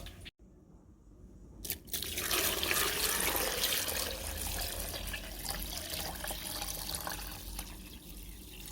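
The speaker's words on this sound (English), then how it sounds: "I'm going to be adding now some filtered water to this" Filtered water is poured into a Vitamix blender jar with fruit inside, a steady, full splashing gush that starts after a brief click and runs on without a break, close up.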